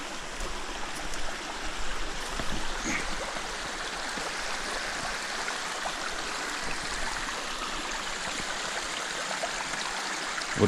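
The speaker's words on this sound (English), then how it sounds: "Whatever little river this is, considering how dry it looks in the area, there's some nice water running here." A small river running through a dry area on a climbing route, its water rushing and babbling in a steady continuous wash close by, with no voices over it.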